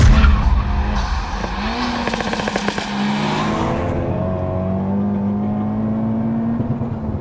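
A Honda Civic Type R FK8, tuned to 420 bhp, revs hard near the mic, a loud rising and falling engine note with whirring tones that settles into a sustained, steady hum.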